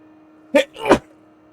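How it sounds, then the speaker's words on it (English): A short two-part sneeze in the game The Outer Worlds, loud and close, rising on a quick intake then bursting out, over a steady low hum. "Ah, that was a sneeze."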